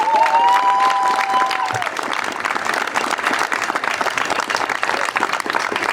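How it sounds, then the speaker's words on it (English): Outdoor crowd applauding at the March for Black Life, a loud dense wash of clapping that holds steady, opening with a few shouted cheers over the top. "Give him a round of applause, please."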